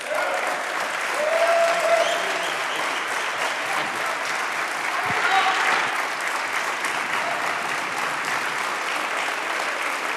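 Steady, dense audience applause in a college chapel welcoming a speaker, an alumnus, continuous and fairly loud throughout with a slight swell partway through.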